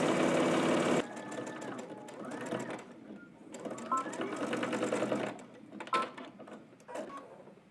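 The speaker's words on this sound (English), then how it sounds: "We're going to stitch all the way across using 5/8 of an inch seam allowance." A sewing machine stitches across a garment band with a 5/8 inch seam allowance, producing a fast, continuous mechanical whirring and clatter up close that rises and eases as the stitching runs.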